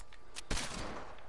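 Gunfire in a video game, a sharp loud shot cluster in the middle with another near the end, over a steady busy background.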